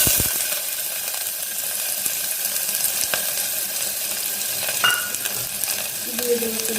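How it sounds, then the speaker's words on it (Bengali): Chopped onions frying in hot oil with cumin seeds, a steady close sizzle with scraping stirs and a few light clinks, no talk. "এবার আমি পেঁয়াজটা ভেজে নিই"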